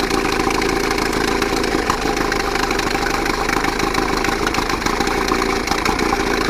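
An old two-cylinder Mercury Mark 10 outboard motor idles on both cylinders after carburetor work, with a steady, even mid-pitched drone and a fine rapid pulse running unbroken throughout, close by and without voices.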